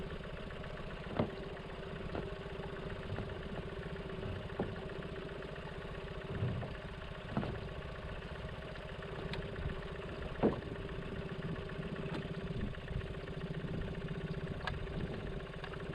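Outboard motor on an inflatable cabin cruiser running steadily while reversing toward shore, a close, even idling drone with occasional knocks and clatters.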